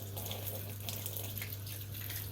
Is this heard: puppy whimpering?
no